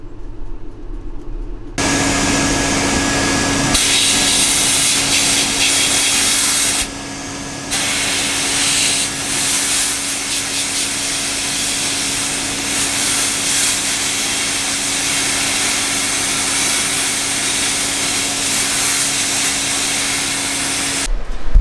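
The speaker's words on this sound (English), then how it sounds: "I've just got a little sandblaster here. Put it in there, I'm going to blast it." A cabinet sandblaster blasts a Fiat 500 handbrake lever, producing a loud, steady, harsh hiss with an underlying compressor drone that runs continuously for the whole stretch, briefly dipping once partway through, with no voices.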